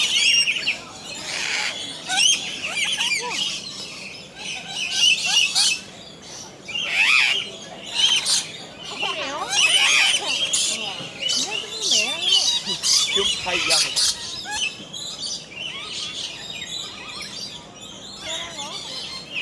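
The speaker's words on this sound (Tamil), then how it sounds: "விதவிதமான கிளிகளெல்லாம் நம்ம இந்த இடத்துல பார்க்கலாம்." Parrots and lories squawk at Lory Loft in Bird Paradise, Mandai Wildlife Reserve, Singapore, with dense, overlapping harsh screeches and chirps from nearby birds throughout and a faint murmur of voices in the background.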